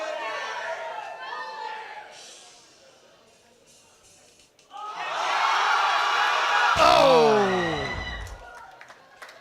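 Crowd at a world sub-junior and junior powerlifting championship cheers and whoops as a deadlift is completed in the men's 93 kg classic, a loud swelling roar of voices rising sharply midway with a shout, after quieter chatter.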